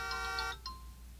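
A cellphone rings faintly nearby with a repeating electronic melody of short pulsed tones that stop partway through.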